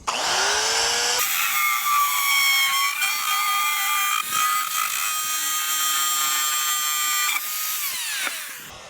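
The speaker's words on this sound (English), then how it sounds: "I'm gonna use my Dremel and get that thing out of there" A Dremel rotary tool cuts into a thick plastic 55-gallon drum used as a cattle trough, a loud high-pitched whine held steadily for several seconds, dipping briefly under load and winding down at the end.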